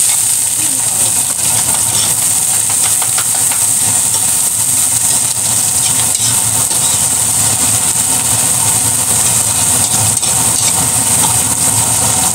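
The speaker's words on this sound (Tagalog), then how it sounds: "Magigisa na po tayo ng sibuyas." Onions sauté in a hot pan with a steady, loud, broadband sizzle that holds evenly from start to finish, close by and without pauses.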